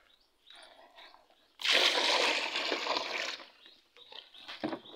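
Water from a tank poured out for a cow to drink in a village, a loud gushing splash for a couple of seconds amid quieter sloshing and small clinks, with a faint voice nearby.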